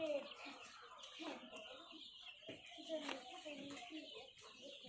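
Farm chickens, mostly grown young hens, cluck and chatter in irregular bursts close by while a person talks over them.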